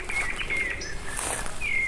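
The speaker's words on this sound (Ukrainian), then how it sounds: "Обожнюю спів, спів е, солов'я." A nightingale sings outdoors on a nature walk, thin high whistled phrases and chirps at moderate distance, steady and continuous over a soft background hiss.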